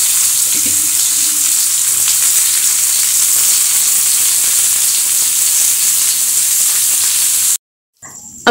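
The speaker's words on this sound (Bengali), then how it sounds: "চলে এলাম আমি একটু রান্নাঘরে করলা ভাজতে" Bitter gourd frying in a pan in a home kitchen gives a loud, steady sizzle and crackle throughout, with no talk, then cuts off abruptly near the end.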